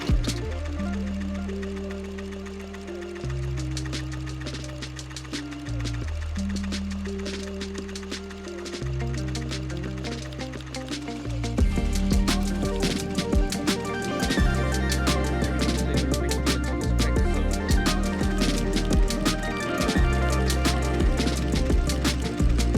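A Tajima embroidery machine stitches 3D puff text onto the side of a New Era hat, starting with a slow, stepwise mechanical whir and shifting pitch, then running faster and louder as a steady rapid stitching rattle.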